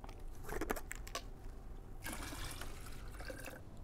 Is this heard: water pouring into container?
yes